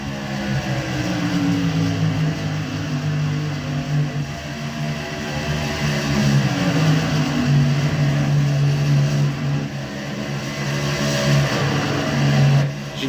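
NASCAR trucks racing at Charlotte, a steady, dense engine drone with shifting pitches as several trucks pass at a distance, continuous and fairly loud throughout with no talk.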